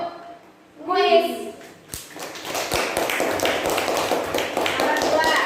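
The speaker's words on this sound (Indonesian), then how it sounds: "Tepuk tangan untuk kuis." A classroom of children clapping their hands together as a reward after a math quiz answer, a brief voice first, then steady dense clapping that continues to the end.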